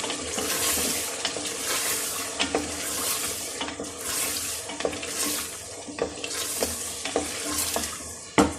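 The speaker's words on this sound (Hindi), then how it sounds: "अब अच्छी तरह मैंने चिकन भूनना है।" Chicken frying in a pan of tomato-spice masala for aloo gosht gives a steady close sizzle, with repeated scraping stirs and clinks throughout and no talking.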